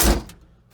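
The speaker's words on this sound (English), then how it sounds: "Or if you pull the string, it also will open the door." The broken tailgate latch on a 2000 Ford Explorer hatch releases when a string is pulled, giving one dull thunk followed by a brief faint rattle, close and alone.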